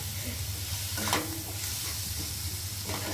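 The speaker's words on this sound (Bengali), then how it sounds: "ভালো করে ভেজে নেব" Tomato and potato fry in a pan with a steady, close sizzle and a few brief stirring scrapes and hissing bursts of steam, with no voices.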